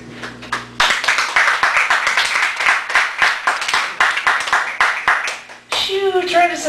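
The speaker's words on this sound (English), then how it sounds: "don't clap at me, clap at you" An audience at a poetry reading in a Chicago cafe gallery claps loudly and close, a dense burst of hand claps that fades out before a voice starts talking.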